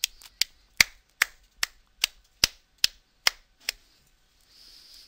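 Nine sharp hand claps ring out at a steady, slightly quickening pace in a quiet room, each crisp and clear with a short decay, followed by faint background hiss.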